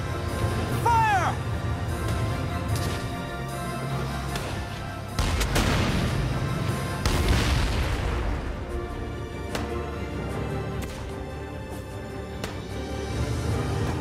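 A tank cannon firing in the video game Valkyria Chronicles 4, with heavy booms and crashing impacts set against a battlefield soundscape and voices talking.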